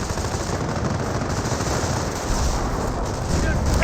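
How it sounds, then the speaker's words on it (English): Wurfrahmen rocket barrage in the World War II strategy game Company of Heroes, heard as a dense, continuous roar of rapid blasts and rumbling impacts, loud and steady across the whole stretch. "Here comes a Warfman barrage somewhere."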